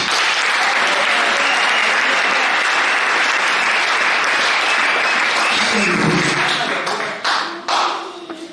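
Church congregation breaking into sustained applause, a dense wash of clapping from a large crowd that holds steady for most of the stretch, then thins into scattered claps and taps near the end.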